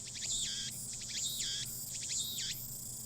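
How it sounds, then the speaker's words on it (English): Cicadas chirping in the Steins;Gate video game, a loud buzzing chorus pulsing in three rising-and-falling waves over a steady hum, with no talk. "the only sound is the chirping of cicadas"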